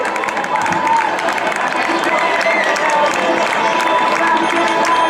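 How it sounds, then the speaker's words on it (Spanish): Crowd applause and cheering for runners at a popular town race in Meaño, a steady dense clapping that carries on throughout with voices babbling underneath. "Un aplausinho máis que esta xente que máis se necesita precisamente"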